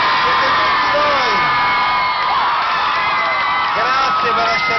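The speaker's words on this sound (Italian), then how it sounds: "guardatevi e fatevi un applauso, siete tantissimi" A large concert crowd at a Salerno tour stop cheers and whoops loudly and continuously, a dense wall of shouting voices close around.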